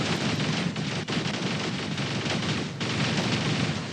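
Magnum guns on battle robots in the game War Robots fire continuously in a dense, loud barrage, with sharp cracks standing out through the ongoing roar.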